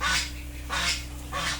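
Domestic ducks roaming around a farmyard where they are kept together with chickens, three loud harsh quacks at roughly even intervals close by, over a low steady background hum.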